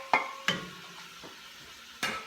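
Chopped celery, shallots and garlic are sautéed with browned meat for chili. A quiet low sizzle runs throughout, broken by three distinct scrapes or knocks of a utensil in the pot.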